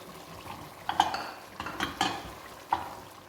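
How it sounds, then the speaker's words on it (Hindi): Whole spices go into chicken korma cooking in a pot, with a gentle sizzle of frying under a few sharp metallic clinks of a spoon scraping and stirring against the pan. "ये जो साबुत मसाले रह गए थे वो डालने लगे हैं इस टाइम पे"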